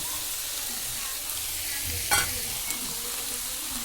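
Sliced capsicum hits a frying pan of softened onions and gets stirred, a soft steady sizzle broken by a sharp scraping clatter midway, close up with no talking.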